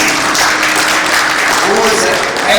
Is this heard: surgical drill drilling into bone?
no